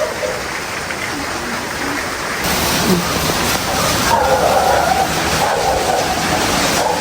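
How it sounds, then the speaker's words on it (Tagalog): Heavy rain pours down in a dense, steady hiss that swells a little partway through. "Hindi naman malakas yung hangin. Yung ulan lang ang malakas."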